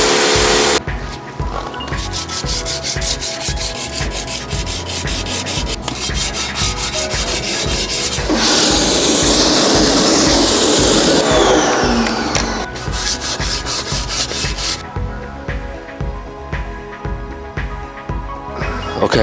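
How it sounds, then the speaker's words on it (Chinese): Wet sanding of a BMW E46 M3 alloy wheel by hand: loud, close, rhythmic rasping strokes repeat steadily, broken midway by a stretch of continuous hissing noise before the strokes resume. "OK， 这样一来呢，我们就把它全部都磨完了呀。"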